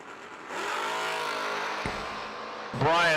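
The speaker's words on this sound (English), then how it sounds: "Brian jumps too soon, drops the Red Bull behind the Camaro, and Jason, 582." Drag racing cars, including a Camaro, roar down the strip at a summer drag racing event. A loud, continuous engine drone holds steady, then ends with a sharp burst of higher revving near the end.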